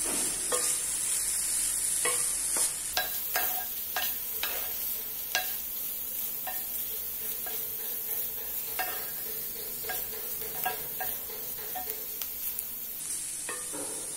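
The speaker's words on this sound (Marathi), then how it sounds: "तर आता हे सगळं मिळून आपण मिसळून घ्यायचं।" Mixed vegetable bhaji with potato stirred in a pan, a continuous soft sizzle with repeated scraping and clinking of a spoon against the pan, close and unaccompanied.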